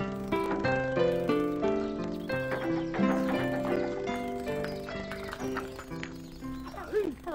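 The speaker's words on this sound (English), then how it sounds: "the horse that you're going to ride today" A horse whinnies and hooves clop along, with people talking and music-like tones layered over it throughout.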